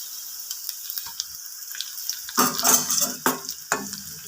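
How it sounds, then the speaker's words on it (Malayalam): Chili powder is stirred into garlic, ginger, curry leaves and green chilies frying in a pan for Kerala-style lemon pickle, with soft scraping taps at first, then a louder sizzling burst and clatter of stirring. "ഇളക്കി കൊടുക്കുക."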